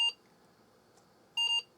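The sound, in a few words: Apple II+ clone computer beeping while rebooting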